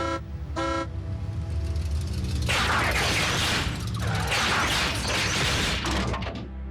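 Two short horn toots sound early on, followed by a loud mechanical whirring and clanking that continues to the end.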